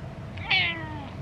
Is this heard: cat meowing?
yes